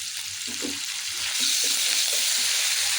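Curry leaves spit and crackle in hot oil for semiya upma, a steady bright sizzle with a few low pops and shifting bursts throughout, close and fairly loud, no talking.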